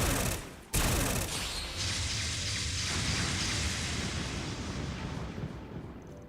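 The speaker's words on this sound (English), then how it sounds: "an enhanced needle gun" An enhanced needle gun fires in a video game battle, a sharp burst followed by a dense, sustained rattling barrage that gradually thins out.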